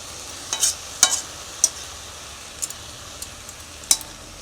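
Susni greens fry with shrimp in a pan while a spatula stirs and gathers them, several sharp scrapes and clicks over a faint, quiet sizzle.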